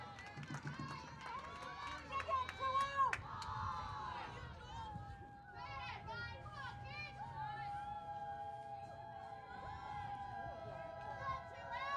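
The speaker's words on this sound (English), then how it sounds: "Crowd getting loud." Crowd noise at a Division I college softball game between Lehigh and Colgate, a steady murmur of cheering and shouting voices rising in places, with scattered calls and whistles across the stands.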